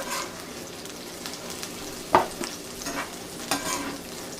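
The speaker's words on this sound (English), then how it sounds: "when cooking this meat, you definitely don't need to have it cooking very long at all" Pepper steak meat with onions sizzles in a pan, a steady close frying hiss broken by a few sharper pops and stirring knocks.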